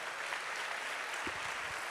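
A church congregation applauds, a dense, steady wash of clapping from many hands, fairly loud and continuous, with a few low thumps near the end.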